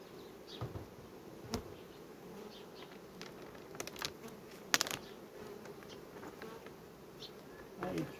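A faint, steady hum of honeybees buzzing close by at a hive nucleus box, with occasional clicks and soft knocks breaking through.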